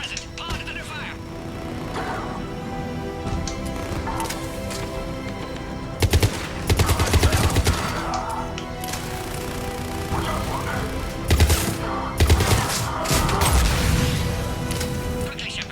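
Automatic gunfire in the video game Mass Effect 3 breaks out in several loud rattling bursts, spaced across the stretch, over game music and voices talking.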